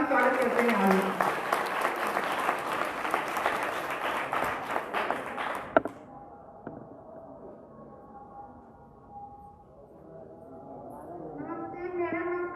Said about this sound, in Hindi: जोरदार ताली स्वागत करते हैं आयुष।